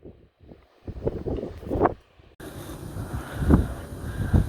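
Strong wind buffets the microphone on a beach at Carboneras, Almeria: a quieter gusty stretch, then a sudden loud, steady roar of rushing wind.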